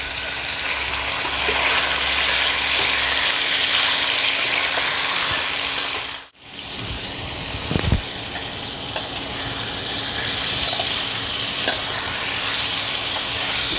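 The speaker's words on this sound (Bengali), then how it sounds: "তেল গরম হয়ে গেছে, এবার তেলের মধ্যে দিয়ে দেব লবণ আর গোলমরিচের গুঁড়ো মাখানো চিকেন।" Chicken pieces coated in salt and ground pepper hit hot oil in a pan, producing a loud, dense, continuous sizzle that cuts out briefly midway and then resumes with occasional pops.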